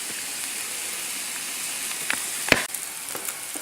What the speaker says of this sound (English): We're going to saute this.